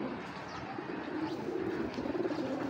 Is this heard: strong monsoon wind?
no